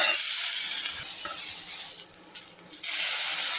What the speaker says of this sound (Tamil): கடுகு சீரகம் புரிஞ்சதும் கொஞ்சம் பெருங்காயம் போட்டு கருவேப்பிலை போட்டு தலைக்கணும்